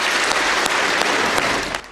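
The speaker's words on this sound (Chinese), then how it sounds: "掌声欢呼声不绝于耳，各国外交官和政府官员速度起立鼓掌" Diplomats and government officials rise in a parliament hall and give a dense, sustained round of applause for Zelensky's year-end address. The clapping is loud and continuous, fading slightly at the end.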